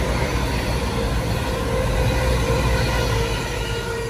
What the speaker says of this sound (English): Passing through now is a cross-country service from Edinburgh to Bristol Templemeads.